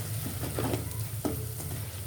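Spices and chilli powder fry in a pan for palak paneer, a quiet steady sizzle with a few soft spatula scrapes and stirs, fairly faint and with no voices.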